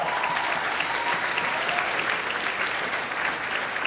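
An audience at a conservative youth conference in Miami breaks into sustained, dense applause, loud and even throughout with no voices above it.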